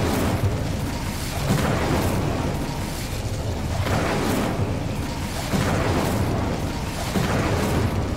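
Incendio fire spell cast in the Hogwarts Legacy video game, heard as repeated loud fiery bursts and whooshing blasts that swell and fade in a steady rhythm, close and alone with no talk.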